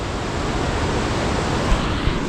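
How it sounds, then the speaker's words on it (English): A massive river waterfall pours in a steady, dense, full roar that stays constant from start to finish, with no voices over it. "trying to dam this massive waterfall"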